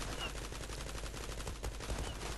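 Rapid gunfire crackles in the online shooter Zula, including sniper shots, a dense, fast stream of shots at moderate distance with no gaps across the short burst.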